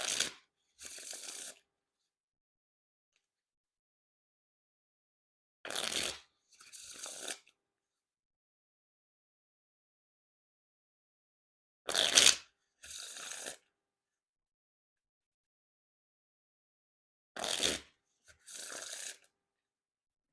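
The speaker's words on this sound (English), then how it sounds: "And now time for the riffle shuffle or bridge shuffle." Four separate bursts of riffle shuffling Bicycle Excellence playing cards, each a quick crisp fluttering of cards followed by a softer second rustle, with silent pauses between.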